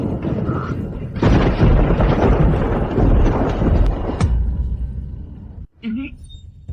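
A dramatic thunder effect in a fantasy drama rolls in as a loud, broad rumble lasting about three seconds, then cuts away to a quieter stretch with brief sounds.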